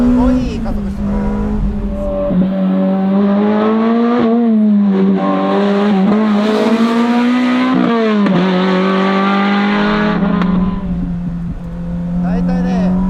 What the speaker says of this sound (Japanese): 3速からでもね車重が明るいからすごいいい加速してくれる